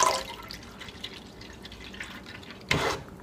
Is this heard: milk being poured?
yes